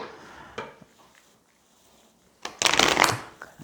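A deck of tarot cards is shuffled by hand in two bursts: a short riffle first, then after a quiet pause a louder, longer flurry of card flicks close to the microphone.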